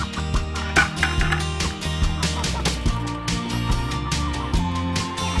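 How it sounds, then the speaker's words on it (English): A flock of fowl is being fed, with busy overlapping clucks and calls from several birds, close and continuous, plus a few sharp peaks. "You gonna feed these birds?"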